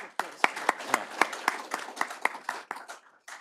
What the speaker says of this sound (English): Let's have a round warm of applause